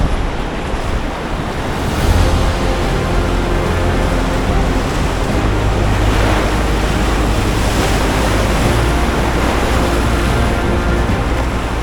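River rapids on the Piteälven in Lapland roar as a constant broadband rush of churning water during a canoe expedition, heard up close and loud with wind buffeting the microphone throughout.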